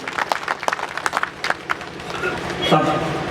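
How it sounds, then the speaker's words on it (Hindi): Audience clapping for the father of a performer at a Hindi poetry recital honoring mothers, scattered claps at first, then swelling into fuller, steadier applause toward the end. "एक बार उनके पिताजी के लिए तालियां बजा नीचे।"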